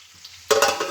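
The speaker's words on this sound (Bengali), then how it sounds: "এগুলো কালকের মাছ আর মাংস ছিল, এগুলো একটু ভাজা ভাজা করে ফেলবো" Leftover fish and meat hit hot oil and burst into a sudden, close, bright sizzle about halfway through a brief moment of near-quiet.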